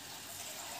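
Water being poured and strained slowly through a folded dhoti cloth as a homemade arsenic filter, a steady soft trickling wash with no breaks.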